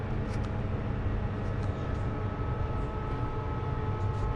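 Steady low rumble and rattle inside a passenger train running from Sutomore to Podgorica in Montenegro, continuous and fairly loud throughout with no speech.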